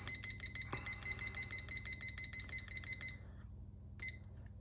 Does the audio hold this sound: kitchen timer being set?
yes